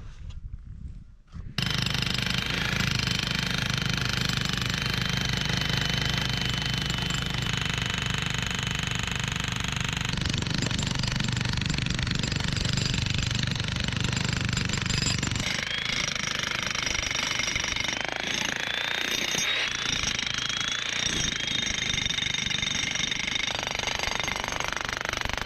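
A jackhammer breaks ground for road building, hammering loud and close in a continuous rattling burst that runs almost without pause, its tone and intensity shifting a few times as the work goes on.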